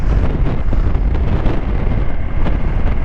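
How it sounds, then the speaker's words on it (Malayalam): Strong, steady wind roars and buffets close to the microphone on a Hero Xpulse motorcycle ride in Ladakh, a dense rumbling gust that stays loud throughout with no pauses. "അവിടെ കാറ്റ് ഒരു രക്ഷയല്ല"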